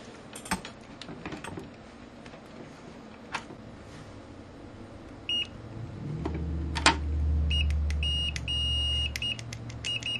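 A digital multimeter's beeper sounds in short, thin electronic beeps, several repeated bursts after some clicks and handling noise, with a low hum rising underneath during high-voltage testing above 2kV.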